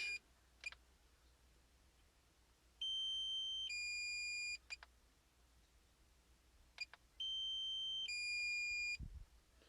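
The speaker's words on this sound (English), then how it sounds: "That's the low battery warning." Two sustained electronic low-battery warning beeps, each lasting about two seconds, separated by quiet gaps and faint clicks, fairly close and steady.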